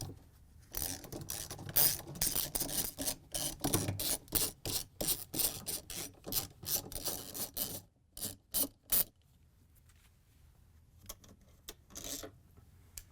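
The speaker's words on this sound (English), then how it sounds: "So we can use a 10mm socket to remove the bolts that hold the stator in." A 10mm socket on a ratchet removes the stator bolts from a Samsung washer drive motor (DC93-00309A), giving quick repeated rasping clicks in bursts with short pauses, close and fairly quiet.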